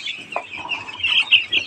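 Nine-day-old chicks on a poultry farm keep up a dense, steady chorus of high chirps and peeps, fairly close and with no voices over them.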